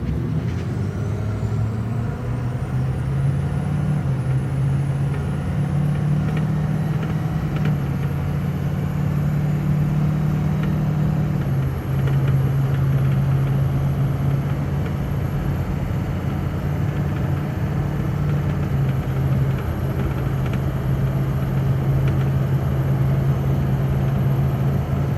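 A 6.0 Powerstroke diesel pickup accelerating at quarter throttle from standstill toward 50-60 mph, with a steady engine drone and low rumble that climbs gradually and holds a sustained note throughout, heard from inside the cab without talk.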